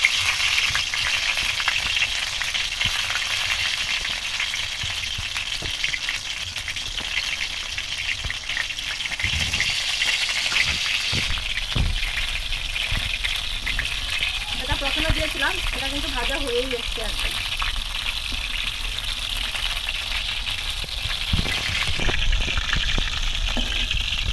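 Batter-coated lote fish chops fry in hot oil with a steady, close hiss and crackle that runs throughout, with brief bubbling gushes and soft clinks of turning pieces.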